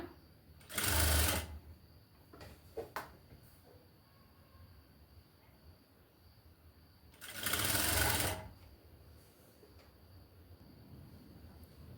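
A sewing machine stitches piping onto a blouse lining in two loud, short runs about six seconds apart, with quiet room tone between them and no talking.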